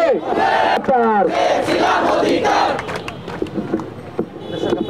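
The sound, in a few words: protesting students chanting a slogan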